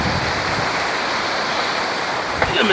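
Water rushes steadily through a mountain channel that feeds a traditional water-powered flour mill. The flow is close, loud and continuous, with no talk over it.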